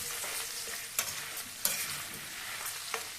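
Dried red chillies that have already fried well keep sizzling in a pan with dried mint leaves, a steady close sizzle broken by a few sharp stirring scrapes, with no voices.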